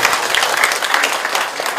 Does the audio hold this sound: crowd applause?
yes